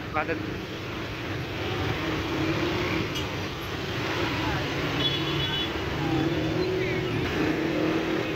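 Heavy, jammed road traffic near Tanah Abang station in Jakarta, with cars and motorbikes idling and rumbling continuously, close and loud, and faint horn toots rising out of the steady roadway din.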